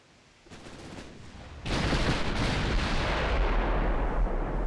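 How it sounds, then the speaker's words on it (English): Naval gunfire in the Ultimate Admiral Dreadnoughts warship game: a quiet rumble, then a sudden deep boom that swells into a sustained loud roaring blast with crackling tail, with no talking. "That's cool, with the big explosion in the background."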